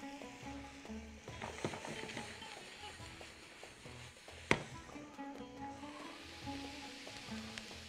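Chopped onion frying in a pan for a chicken and vegetable pie, a steady close sizzle with occasional stirring scrapes and one sharp knock, quiet and without talk.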